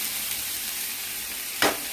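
Chopped carrots tossed into a pan of sautéed onions for a South Indian carrot poriyal, a steady low sizzle broken near the end by one sharp scrape or clatter of stirring.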